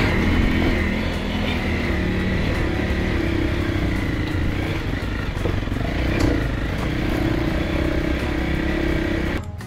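A motorcycle on an adventure tour climbs a stony track in Georgia, its engine droning loud and steady throughout with constant rough rumbling and no pauses.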